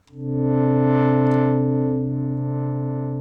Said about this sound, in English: let's add some echo and let's listen